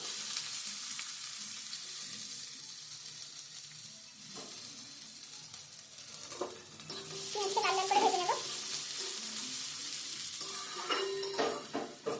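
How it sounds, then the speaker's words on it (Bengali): Chopped onion sizzles in hot oil with fried chilli and minced garlic for a red amaranth stir-fry: a soft, steady frying hiss with occasional stirring scrapes and clinks. "এর উপর দিয়ে দেবো কেটে রাখা একটা পেঁয়াজ"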